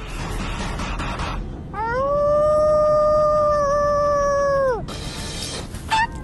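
A wolf's long sustained howl, loud and close, rising and then holding a steady pitch for about three seconds before dropping away, set between bursts of noisy background sound.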